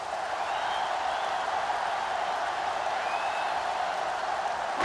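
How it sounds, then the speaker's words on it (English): Stadium crowd noise from NCAA Football 2005, a steady roar of cheering fans at a college game between NC State and Michigan, continuous and fairly loud throughout with no break. "And this crowd is going crazy."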